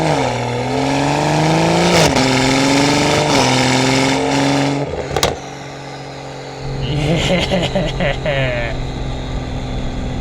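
A BMW B58 engine revs hard in a few rising pulls, loud and close, then drops to a steadier idle-like hum as some brief voice sounds come in near the end.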